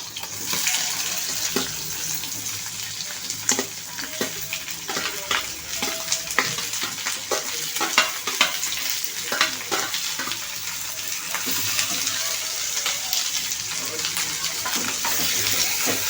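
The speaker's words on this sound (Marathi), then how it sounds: "आता आपण ह्याच्यामध्ये कांदा फ्राय करून घेणार आहोत" Onion frying in a little oil in a kadai for egg curry, a continuous sizzle with repeated scraping and stirring clicks of a spoon against the pan, fairly close and steady throughout.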